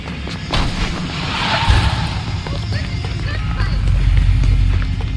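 Gunfire in the video game L.A. Noire: loud, rapid shots and booming reports over a steady rumble of game action, with voices talking over it.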